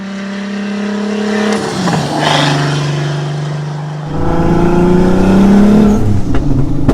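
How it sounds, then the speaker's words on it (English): A turbocharged sleeper car engine revs hard while accelerating, loud and close, with a rising whine, a brief drop between shifts, then a climbing rev with turbo spool and a sharp pop near the end. "I'm barely touching the throttle and it's actually like the turbo's picking up"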